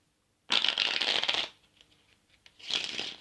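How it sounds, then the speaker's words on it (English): Two close, crisp bursts of Bicycle playing cards being riffle shuffled in hand, a fluttering rush, a short pause with light taps, then another riffle. "In hand riffle shuffle"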